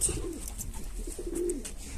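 Black breeding pigeons coo softly in a coop, low throaty calls repeating against a dense background of faint rustling and other birds nearby.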